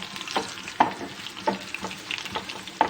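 Garlic fries in a pan with a soft, steady sizzle, broken by light clinks and scrapes of stirring at irregular intervals, close and fairly quiet.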